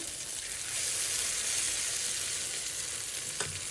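Steady broadband sizzle of gundu thosai batter frying in hot sesame oil, continuous and close, with a faint clink near the end.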